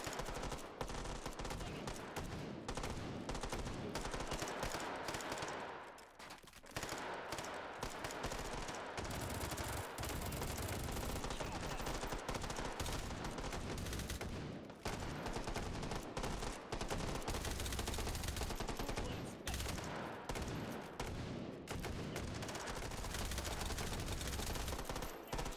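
Dense, loud gunfire fills a firefight in the VR game Hot Dogs, Horseshoes & Hand Grenades, rapid automatic bursts and single shots rattling almost without pause, with only a couple of short gaps.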